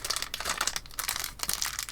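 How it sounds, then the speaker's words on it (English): A tiny plastic bag crinkling and rustling in quick, close bursts as it is handled, fairly loud and alone with no voices. "So now I've got another little tiny plastic bag inside there, like the tiniest."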